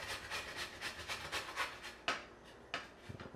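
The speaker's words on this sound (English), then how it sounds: "I'm going to take this here grater and just start shredding it" A potato is shredded on a grater in quick back-and-forth rasping strokes, close and quiet, the rhythm breaking into a few sharper scrapes near the end.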